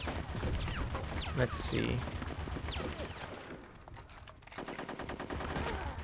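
Rapid automatic gunfire bursts in the Conker's Bad Fur Day video game, dense and loud over game music and effects, with a player's voice talking briefly over it.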